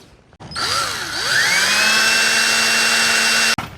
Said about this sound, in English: I'm going to drill some holes along this edge here